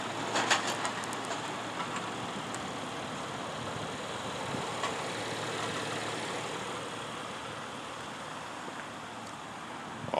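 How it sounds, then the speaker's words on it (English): A 2017 Cadillac CT6 with a 3.0L twin-turbo engine idles under an open hood, a steady even hum with a few light clicks and no talk over it. "just taking a quick look under the hood just so you can kind of hear the engine run."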